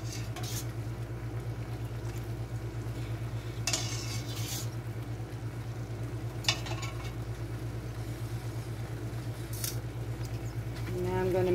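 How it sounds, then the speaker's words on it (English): Pasta being stirred into a sage butternut squash sauce in a pan, steady soft sizzling and sticky churning with a few sharp clicks of a utensil against the dish, a low hum throughout. "Going to mix this all up into our pasta"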